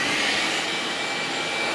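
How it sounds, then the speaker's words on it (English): A shop vacuum running in a woodworking shop with a steady, loud broadband whoosh and high whine throughout, no pauses, no voices. "First thing you do is get the vacuum cleaner running"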